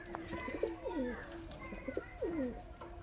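Pigeons coo in repeated throaty rolling phrases, about two or three bouts, fairly faint and close, over a quiet background, including a female racing pigeon among the flock.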